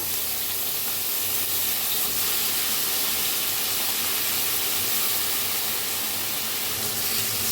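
Brinjal fries in hot oil in a kadai with a constant, even sizzling hiss that carries on without a break and with no voices.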